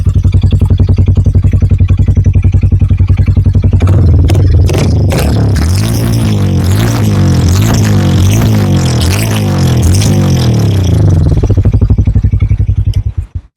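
A Harley-Davidson X440 motorcycle idles close by with a steady, loud, bassy thump from the exhaust, swells through a blip of revs in the middle and settles again before cutting off at the end.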